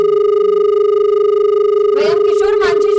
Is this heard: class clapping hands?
no